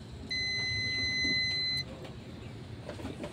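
A multimeter's continuity buzzer sounds a steady high electronic beep for about a second and a half over a low background rumble, then cuts off abruptly.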